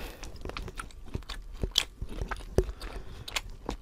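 Someone bites and chews a crunchy croque monsieur close to the mic, with repeated sharp crunches and crackles spaced irregularly between quieter chewing and scraping sounds.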